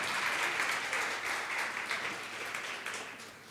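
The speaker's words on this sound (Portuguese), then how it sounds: "Pode aplaudir o Senhor agora." A church congregation claps together in a dense, continuous burst of applause that fills the room, then slowly tapers off.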